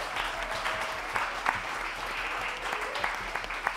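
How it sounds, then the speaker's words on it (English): An audience claps at a live concert at the Sylvia Center. The clapping is moderate and continuous, with a few sharper individual claps standing out and a low hum underneath. "let's give a round of applause to those three folks"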